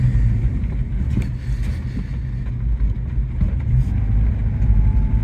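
A 1982 Saab 900 Turbo barn find is driven slowly down a road, its engine a steady low rumble with road and wind noise.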